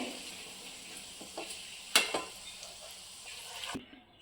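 Paneer fries in a pan with a quiet, steady sizzle, punctuated by a few utensil scrapes and one sharp clink before it cuts off near the end.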